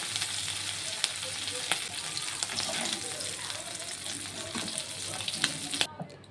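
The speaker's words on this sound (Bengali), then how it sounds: "মাছ আর মাছের মাথাটি কিন্তু খুব ভালোভাবে ভাজা হয়ে গেছে" Shrimp and shrimp heads, seasoned with salt and turmeric, sizzle steadily in hot oil in a pan, a dense close crackle with occasional spatters and utensil clinks, faint speech underneath.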